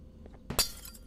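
Glass breaking in the video game Garten of Banban 2: a brief bright crash and tinkle of shattering glass with a short ringing tail, heard alone over quiet game background.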